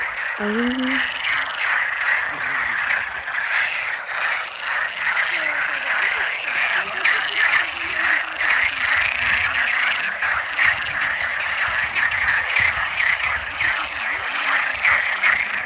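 Dense chorus of frogs croaking continuously, loud and close, with a brief voice near the start.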